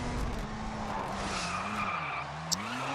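Car drifting in the GRID racing game, tires skidding steadily with a continuous engine drone and squeal over three seconds, plus a brief sharp click near the end.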